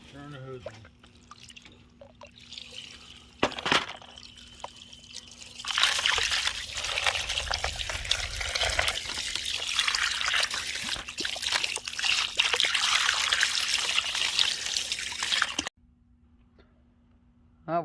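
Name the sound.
water running from a hose over tumbled stones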